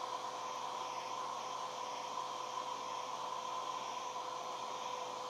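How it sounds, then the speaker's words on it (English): A hair dryer blows on a low setting over watercolor paper, a steady, even whoosh of air that never changes and sits fairly faint and constant throughout. "When I am drying something with a hair dryer, I make sure I start off very low strength."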